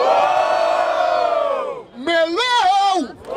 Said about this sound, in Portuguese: Vamos lá, barulho para as rimas do Preto